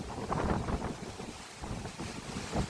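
Wind buffeting the microphone outdoors at a beekeeping apiary in late season, a continuous low rumbling roar with gusty swells, close and fairly loud, no voices.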